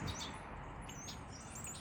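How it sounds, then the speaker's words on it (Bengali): Small birds chirp in a tree beside a house, with a few quick high tweets over a soft steady background hiss, fairly faint and a little distant. "সকালে ঘুম ভাঙে এদের আওয়াজে কিস কিস কিস কিস আওয়াজ খুব ভালো লাগে"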